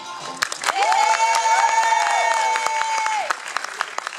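A theatre audience in Poprad applauds loudly and continuously, claps packed close together, while several overlapping whistle-like tones swoop up and down above the noise for a few seconds.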